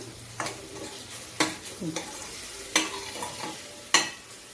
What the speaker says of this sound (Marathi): त्याच्यामध्ये आपण आलं लसूण पेस्ट घेऊया त्याला पण फ्राय करूया